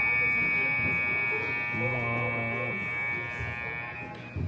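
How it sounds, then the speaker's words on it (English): A steady electronic buzzer drones before a men's pool play game in Wisconsin, a sustained tone running the whole time with a brief stronger pulse midway, under faint gym background noise. "the buzzer's gone now"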